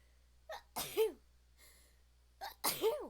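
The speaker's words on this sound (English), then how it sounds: "And I'm gonna sneeze." Two sneezes about two seconds apart, each with a quick breathy intake before the sharp burst, fairly close and loud against a quiet background.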